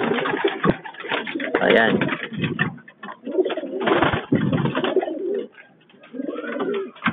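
Pigeons coo steadily in a backyard loft, soft throaty calls rising and falling close by across several seconds, with someone speaking briefly over them.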